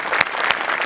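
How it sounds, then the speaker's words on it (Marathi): Loud audience applause on a stage show, a brief burst of dense clapping heard close. "जोरदार टाळ्या झाल्याच पाहिजे"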